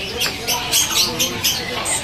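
Inside a bird shop, an oriental magpie-robin gives sharp, repeated squawking calls, close and fairly loud, with faint voices and shop chatter underneath.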